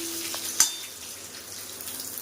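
Curry leaves, bay leaf and spices sautéing in a pan for vegetable paya, a soft continuous sizzle with one sharp clink of a utensil against the pan early on, no talking.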